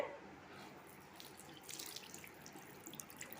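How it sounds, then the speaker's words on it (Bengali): Tap water runs into a sink while hands are washed in a home kitchen, a soft steady splashing stream that grows slightly louder and more spattery toward the end. "বন্ধুরা দেখো এসেই হাত ধোবে আগে"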